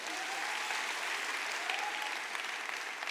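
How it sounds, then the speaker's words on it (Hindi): An audience claps loudly for the Major at a network marketing seminar, a thick, even round of applause filling the whole stretch at moderate distance. "मेजर साहब के लिए जोरदार तालियां।"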